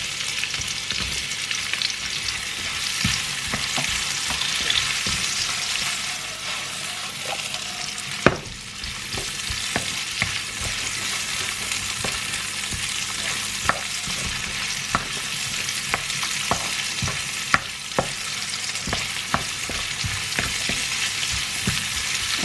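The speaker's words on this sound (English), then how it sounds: "Saute it for a minute. And then followed by the onions." Onions for a Thai green curry sauté in an oiled pan with ginger, a constant close sizzle broken by frequent stirring scrapes and clicks of the utensil against the pan.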